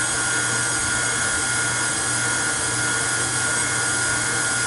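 A KitchenAid stand mixer running at a higher speed while mixing carrot cake batter gives a constant loud motor whir with a steady hum, unbroken throughout and with no voices.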